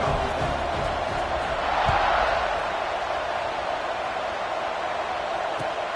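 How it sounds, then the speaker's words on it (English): Stadium crowd noise in the NCAA 26 college football video game during Texas versus Oregon, a steady loud roar that swells briefly, heard without talk. "this crowd is buzzing after that last score"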